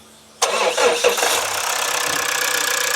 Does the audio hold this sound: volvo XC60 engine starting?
yes